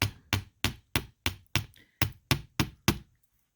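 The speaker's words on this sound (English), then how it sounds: "bring our block out and our nylon hammer and harden these a little bit" Nylon hammer tapping wire earrings on a metal block to harden them, about ten sharp evenly spaced knocks, close and crisp, ending in silence.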